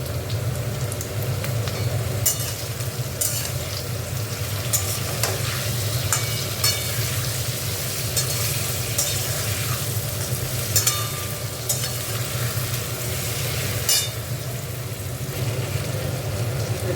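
Continuous crackling sizzle of potatoes frying in a pan with turmeric and green chillies, with occasional clicks of a utensil stirring, close and steady, no voices.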